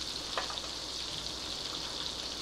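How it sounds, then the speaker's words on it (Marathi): Butter and a little oil sizzle gently in a pan over low heat, a soft, even crackle with a faint tap near the start, heard close and with no talking. "आणि बटर जळू नये म्हणून आपण थोडंसं तेल टाकणार आहोत."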